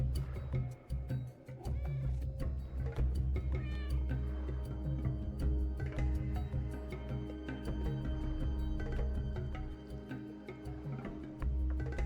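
A cat meows in the video game Stray, its cries set against steady game music and ambience that fill the whole stretch at a constant level.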